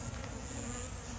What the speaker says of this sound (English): there's some good pollen in there that I think the bees can use before we freeze it